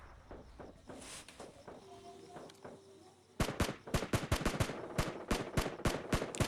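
Tap-fired gunfire in PUBG Lite, with scattered faint shots and footsteps at first, then a fast, loud string of close single gunshots in rapid succession for the last few seconds.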